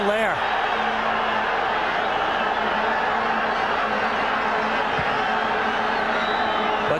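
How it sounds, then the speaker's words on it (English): A football stadium crowd roars in appeal for a handball during a Guatemala–Mexico match, a dense sustained wall of voices with whoops rising, loud and continuous under a commentator's talk. "The crowd wanting a handball there."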